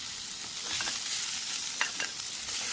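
Tomato and capsicum fry on high flame in a pan of oil for a cauliflower dish, a close, steady hiss of sizzling with a few sharper spatters as the pieces are stirred, no talking.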